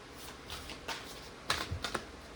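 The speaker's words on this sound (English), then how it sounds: "I just want to shuffle them in front of you" Tarot cards are shuffled quietly, giving a scattering of soft crisp clicks and flutters, with a few sharper snaps bunched near the end, all faint and close against a low background hiss.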